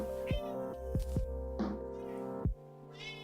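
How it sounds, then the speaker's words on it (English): A pet cat meows insistently for food, giving several sharp, loud, close yowls in quick succession, with a brief pause before a final cry. "That's my cat yelling at me because he wants food."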